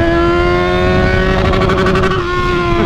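Yamaha XJ6 motorcycle engine held at a steady high rev close by, loud and continuous with a strong sustained tone, alone without talk.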